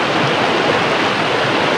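A river rushes loudly and steadily during a crossing on a trek toward a mountain, a dense, continuous wash of flowing water with no talk over it.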